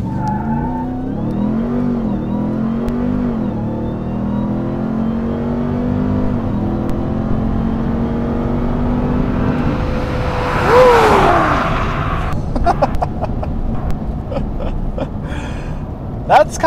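A big Ram TRX pickup truck engine revs and climbs through gears during a launch, with a tire squeal midway and clunking shifts, while a voice talks over it.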